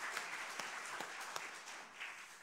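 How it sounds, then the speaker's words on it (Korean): Faint applause from a church congregation during a Sunday worship service, scattered claps blending into a soft, steady patter heard from a distance. "영광의 박수가 함께 드리겠습니다."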